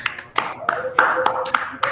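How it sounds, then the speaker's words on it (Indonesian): A class in a teacher-training session claps briefly for a group, with a few scattered, uneven bursts of hand claps mixed with voices talking over them. "Beri tepuk tangan untuk kelompok 1."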